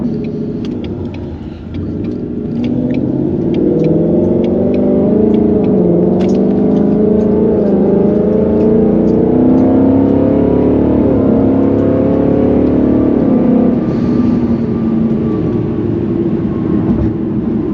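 Steady, loud engine drone inside a Ford Mustang driven in drag mode, rising and shifting gears over a continuous rumble with faint ticking and road noise, no talk.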